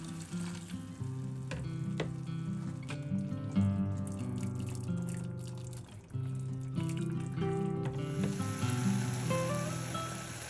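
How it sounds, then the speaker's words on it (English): Water is poured into a pan of soaking wheat berries, giving a steady bubbling hiss with soft stirring and clinks, with no one speaking. "they had soaked up quite a bit of the water, so I added some more to the pan"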